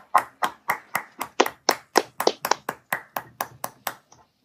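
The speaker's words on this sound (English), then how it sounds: "Please give a round of applause to the Shorty Super Lyrics." Steady rhythmic clapping of roughly twenty single, evenly spaced claps, close and clear, slowing slightly before it stops.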